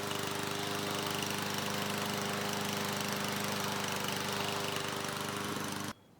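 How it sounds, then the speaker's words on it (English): A PowerSmart 170cc self-propelled lawn mower engine runs at a constant, buzzing drone nearby, then cuts off abruptly after about six seconds. "So it started on the first pull. That's always a good sign, and the engine sounds good."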